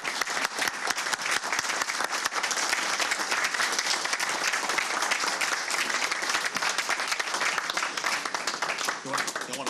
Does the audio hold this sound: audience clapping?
yes